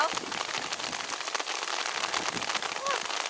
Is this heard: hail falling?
yes